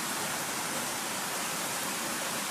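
Heavy rain pours outdoors in cold weather as a dense, unbroken hiss that stays loud and even throughout, with no voices.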